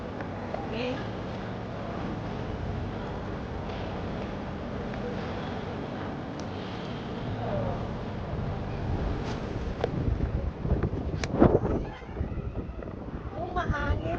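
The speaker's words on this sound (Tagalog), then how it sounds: "Oh, mahangin" Strong wind buffets the microphone outdoors at the Peak in Hong Kong, a steady rushing roar with louder gusts near the end, while people talk under it.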